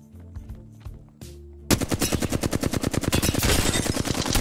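Rapid automatic gunfire in the video game Apex Legends, a dense burst of fast, loud shots that starts abruptly after a few quieter sounds and continues without a break.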